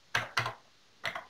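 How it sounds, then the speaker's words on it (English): Quick bursts of typing on a 1980s microcomputer keyboard, two close clusters of keystrokes then a pause and a final short burst, crisp and near. "I'm just typing in from this sheet here"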